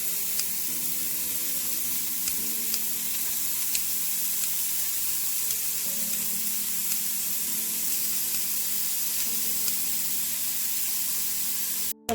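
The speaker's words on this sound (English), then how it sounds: "I'm going to stir this up" Hot spinach dip being stirred before baking, a steady close hiss and sizzle with faint scraping that runs unbroken and alone, with a low hum holding underneath throughout.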